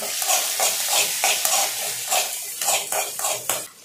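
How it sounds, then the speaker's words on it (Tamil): Tomato is stirred and sautéed in a hot pan for rava kichadi, a steady sizzle broken by repeated rhythmic scrapes of a metal spatula against the pan, close and fairly loud with no talk. "சின்னதா ஒரு தக்காளி போடுறேன் இதையும் போட்டு வதக்கிடலாம்"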